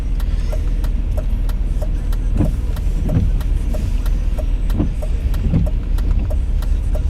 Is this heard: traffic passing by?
yes